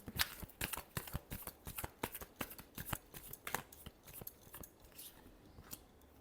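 Tarot cards being shuffled by hand, a fast series of crisp riffling snaps and flicks in irregular bursts, close and fairly quiet with no talking.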